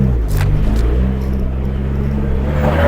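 A Mitsubishi Lancer Evo 4 engine drones loud and close from inside the moving car, a deep steady rumble with a slight rise early on and no talk.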